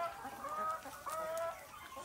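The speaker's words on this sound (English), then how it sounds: "These are our laying hens enjoying fresh grasses." Free-range laying hens eating fresh grass cluck and chirp in overlapping, steady calls, soft to moderate against the quiet outdoor air.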